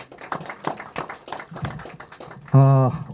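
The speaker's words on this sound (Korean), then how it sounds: "다시 한번 감사의 박수를 좀 주시기 바랍니다" An audience at a book launch event applauds with steady, dense clapping, ending abruptly as a loud, sustained electronic tone takes over.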